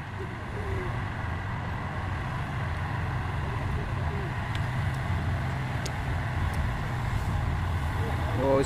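Buses and cars drive past on a hill road, a steady continuous roar of traffic and engines that stays loud throughout with no clear gaps between vehicles.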